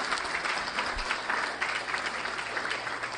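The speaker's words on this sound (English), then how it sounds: "I think that deserves a major, major round of applause," Sustained applause fills a gala hall as an audience claps steadily and densely for about three seconds, with no voices rising above it.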